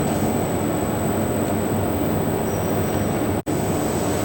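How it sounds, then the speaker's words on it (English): Extruder with its gear pump running steadily at 40 RPM, a loud continuous broadband machine roar with a faint high whine, unbroken apart from a momentary dropout near the end. "you start the gear pump, and then you start the extruder at 40"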